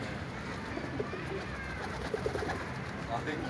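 Soft pigeon cooing mixed into a dense, noisy background, with low murmuring calls recurring throughout.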